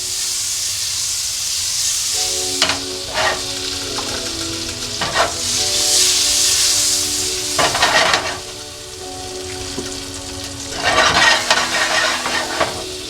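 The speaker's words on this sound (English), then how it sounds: "So I'm going to melt all the butter." Butter melts and sizzles in a hot pan in steady frying hiss, with clinks and scrapes of stirring rising and falling throughout, ahead of cooking garlic butter shrimp.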